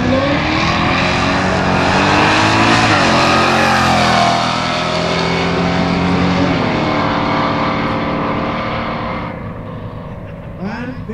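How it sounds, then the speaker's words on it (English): Drag racing at an Icelandic street race, a V8 Dodge Dakota against an Opel launching together, engines roaring loud and close, then fading as the cars pull away down the strip. "Það er Viktor á Dodge Dakota í vinstri og Fannar Snær á Opel"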